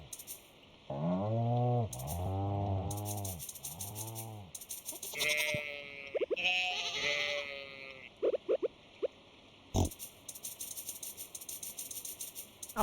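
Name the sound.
sheep bleating in Stardew Valley video game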